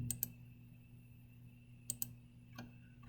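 A computer mouse clicks quietly while lines are selected in a drawing program: two crisp double clicks a couple of seconds apart, then a softer single click, over a faint steady electrical hum.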